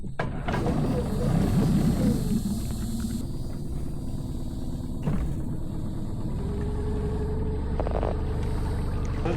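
A boat motor runs steadily through a ride toward Morrison Spring on a hot evening, a loud continuous low drone close by with a few faint knocks and no speech.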